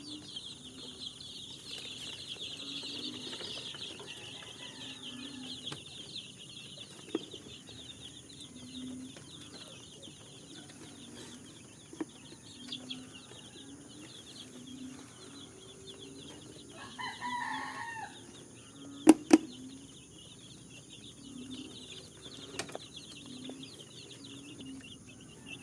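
Chickens cluck softly and repeatedly at a distance, with a rooster crowing once midway and occasional faint bird chirps over a quiet background.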